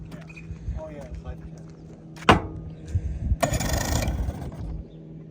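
Jon boat outboard engine with its cover off being started, one sharp pull-start rasp followed by a brief sputtering cranking burst that does not catch, with people talking nearby throughout.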